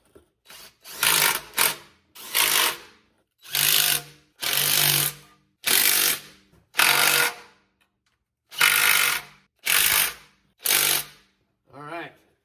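Repeated short bursts from a power tool driving engine bolts during an engine swap on a hunting rig build, about ten separate pulses of a second or so each with brief gaps, close and loud.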